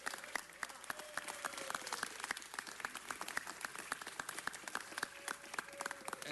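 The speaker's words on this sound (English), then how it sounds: "let's give a big round of applause to all the volunteers who give of their time to support Schools on Wheels" Faint, distant clapping from a small group honoring volunteers at a tribute, individual claps audible as an irregular patter throughout.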